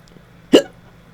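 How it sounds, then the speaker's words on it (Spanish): One sharp, close hiccup, short and sudden against a quiet background. "ahora me entra el hipo"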